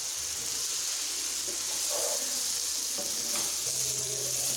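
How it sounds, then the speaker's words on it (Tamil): Chilli idli tossed and mixed in a hot pan, a continuous loud hiss of sizzling oil with faint scraping and stirring movements underneath, no speech. "இந்த பேனுக்கு வந்து மாற்றுறோம். மாற்றி நல்லா இதை வந்து மிக்ஸ் பண்ணணும்"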